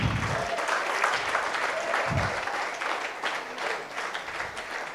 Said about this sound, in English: If you want to clap, clap very well.